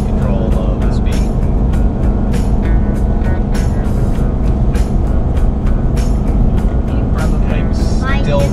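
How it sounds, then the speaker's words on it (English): A vehicle engine drones steadily after downshifting into third gear on a downhill stretch of interstate highway, under constant road and wind noise, with intermittent clicks and a voice talking over it. "Shifted down into third to maintain the speed going down this hill"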